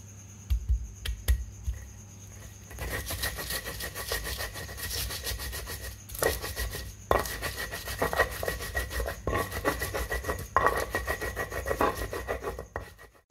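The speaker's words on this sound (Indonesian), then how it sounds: "kita akan menghaluskan dulu kencur, bawang putih, dan cabai rawit" Rough, steady rasping of galangal, garlic and bird's eye chili with salt being ground by hand for Padang-style lotek. It runs continuously for over ten seconds in repeated strokes, close and moderately loud, with no talking.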